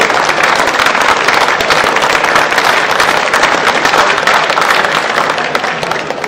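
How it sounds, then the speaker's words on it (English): Sustained loud applause from an arena crowd at the US Women's and Men's Squash Championships finals, dense steady clapping that fades slightly at the end. "round of applause to all the players in the championship this season"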